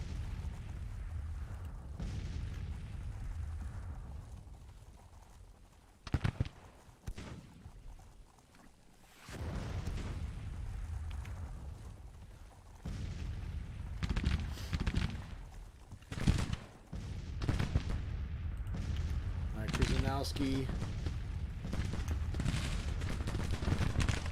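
Civil War musket volleys and artillery booms in Grand Tactician, scattered rumbling blasts and crackling fire rising and falling over a low battlefield drone, with louder bangs breaking through at intervals.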